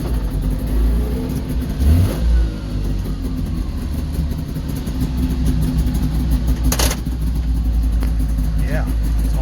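A two-stroke car engine runs steadily nearby, a buzzy, snowmobile-like drone that holds for the whole stretch with a brief swell partway through, while people talk over it.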